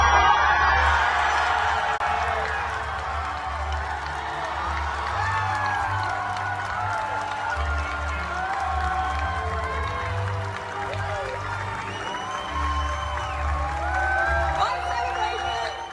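A large crowd at Star Wars Celebration cheering and whooping as Daisy Ridley walks out, a sustained loud roar of voices over booming music.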